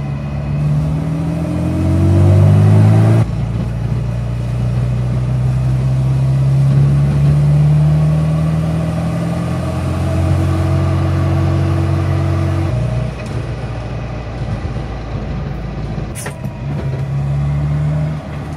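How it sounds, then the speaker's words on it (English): A 1985 Austin Mini drives along with its engine droning loudly and close, rising harmonic sweeps of revs and gear changes over a steady rumble, with the whine of its worn gearbox mixed into the continuous road noise. "It's got that whiny gearbox that you all know about."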